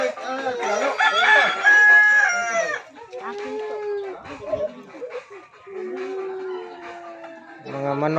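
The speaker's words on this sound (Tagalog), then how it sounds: "Mga manok na sarabong." Several roosters crow in long, drawn-out calls, one after another, close and loud at the start and then further off, with fowl clucking and a brief low rustle at the end.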